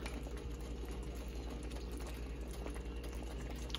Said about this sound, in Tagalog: Hayaan lang natin siyang kumulo ng kumulo.